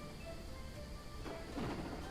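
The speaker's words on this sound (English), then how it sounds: "As you can see, it's raining" Steady rain falls in the A Hero's Rest video game as a soft, even patter that is fairly quiet. A low rumble rises near the end, and there is no talk.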